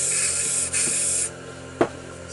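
Aerosol spray paint can hissing out green and a touch of yellow paint onto a tray, steady close bursts with a brief pause, then a short final puff.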